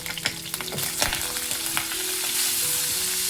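White and black sesame seeds with curry leaves sizzle and crackle in hot oil, a steady frying hiss with scattered pops and occasional stirring clinks, fairly close and with no voices.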